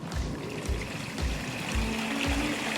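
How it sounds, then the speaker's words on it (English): Water begins pouring over a newly built backyard pond waterfall and stream, a steady close rushing and splashing flow with a low rumble, with no voices. "Here comes the falls."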